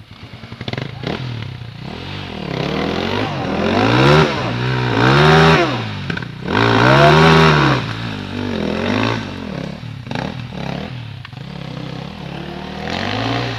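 A nearby motorcycle engine revs repeatedly, its pitch rising and falling in loud, steady surges throughout, with no talking.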